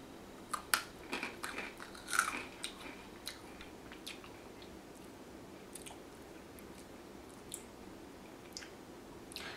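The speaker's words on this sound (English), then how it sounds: "So I'm gonna take a bite." A bite into a crunchy rolled tortilla chip snack coated in chili powder: a few crisp crunches near the start, then quieter, softer chewing that fades out, close but faint, no talking.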